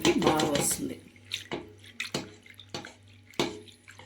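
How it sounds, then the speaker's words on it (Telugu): Maida-coated food dipped into water in a kitchen, giving a splashy burst at the start and then a few scattered, sharp drips and clinks with quiet gaps between them. "వాటర్లో ఇలా డిప్ చేయాలి"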